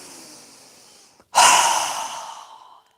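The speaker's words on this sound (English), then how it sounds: "inhaling through our nose, exhaling with a strong breath through our mouth" A single deep inhale through the nose during a yoga breathing exercise, close and clear, followed by a long, loud exhale that fades out over about a second.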